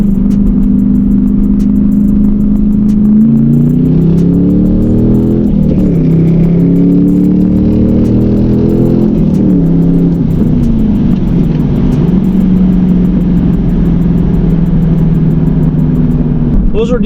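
A stick-shift truck with stock transmission, clutch and shifter launches softly and accelerates hard, engine droning loud and close, pitch climbing then dropping at each of several gear shifts over a long continuous run.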